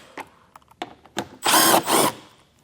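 A power drill removes two 5.5 mm screws from a plastic box on a vehicle during a trailer wiring harness install. Two close bursts of whirring follow a few light clicks and taps.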